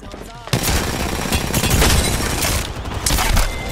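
Heavy, rapid gunfire in Apex Legends, with dense automatic bursts following a brief quieter lead-in, loud and close with occasional booming impacts.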